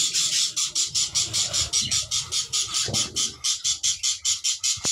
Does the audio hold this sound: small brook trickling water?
no